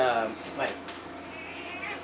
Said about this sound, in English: that meow in the background is